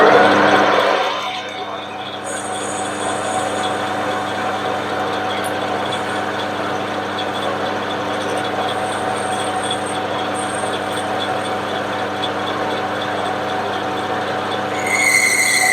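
A metal lathe takes a light cut off a steam locomotive snifting valve part, giving a steady, close mechanical whir with a constant motor hum that rises into a brief higher squeal near the end.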